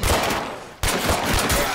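Rapid gunfire in State of Decay 2 rattles as a dense, loud burst, cuts out briefly, then resumes in another close volley.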